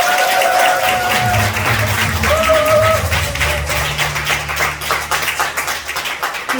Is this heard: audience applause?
yes